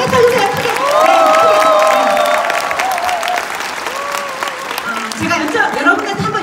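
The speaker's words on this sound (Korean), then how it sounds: "큰 박수로 우리가 감사의 박수 드리겠습니다" Applause from a seminar audience at a hotel event, dense clapping mixed with crowd noise and a few voices, with music and speech running through it.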